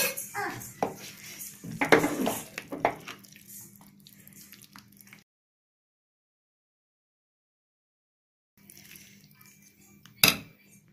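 Cashews and cardamom being stirred into sakkarai pongal in a pot, with close metal scraping and clinking of a spoon against the pot over several seconds, a silent gap, then one sharp clank.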